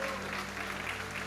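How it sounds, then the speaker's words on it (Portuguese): A church congregation applauds during a worship service, a dense and steady patter of many hands clapping with a faint voice beneath it. "Aplaude ao Senhor."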